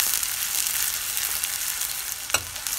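Chopped onion frying in hot oil for a dhaba-style black urad and chana dal tadka, a dense continuous sizzle, close and steady, with one brief clink of a utensil near the end and no voices.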